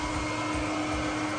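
A hairdryer hooked to a vent and tube in a homemade helmet build whirs steadily on, a constant motor hum with a faint tonal whine throughout, close and unbroken, with no talk.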